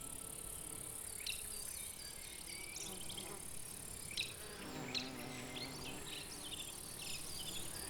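Bumblebees buzz around hedgenettle flowers in a sunlit forest clearing dotted with dead trees, a faint, steady insect hum with occasional louder passes close by and no voices.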